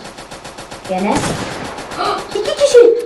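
Rapid bursts of gunfire in the video game Rebels Clash crackle through the clip, growing louder midway, while someone talks excitedly over the shots.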